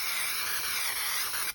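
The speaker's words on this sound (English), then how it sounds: "I'm using spray glue and I use Craft Mount by 3M." A can of 3M Craft Mount spray glue gives one continuous, loud, close hissing spray with a steady level, then cuts off abruptly.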